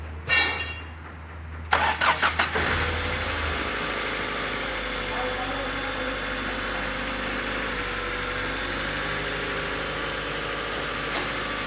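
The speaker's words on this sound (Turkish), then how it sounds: "Kapağımızı açmadan önce bir çalıştıralım, aracımızın sesini duyalım." A Mazda 626 2.0 DOHC engine with a blown head gasket cranks with a few quick turns, catches, and settles into a steady, even idle that continues to the end.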